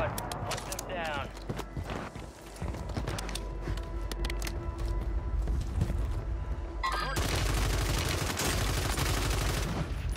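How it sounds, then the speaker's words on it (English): AMR9 submachine gun firing in Warzone, the battle royale video game: rapid, dense bursts of automatic fire crackle in and out, growing heavier and more continuous near the end, mixed with game sounds and a voice talking. "Look at those shots."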